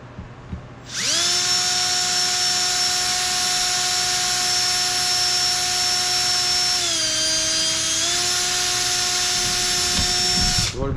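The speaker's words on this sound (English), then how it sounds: "we'll just drill a hole through one side of it and put a screw in there" A power drill bores a hole through a plexiglass garage sign, its motor whining loud and close in a steady high pitch for about ten seconds, dipping briefly as the bit bites before recovering.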